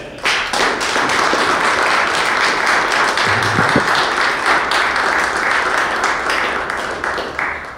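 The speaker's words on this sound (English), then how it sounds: "could I have another round of applause for the two competitors?" Sustained audience applause for the two competitors at the final of the 2018 Australian International Billiards, a dense, loud round of clapping that holds steady for several seconds before thinning slightly at the end.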